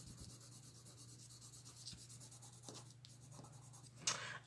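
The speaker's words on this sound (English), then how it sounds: "I'm just kind of shading the background a little bit" A pencil shades a background lightly on paper card stock, a faint, continuous scratchy rubbing close by with a sharper scrape near the end.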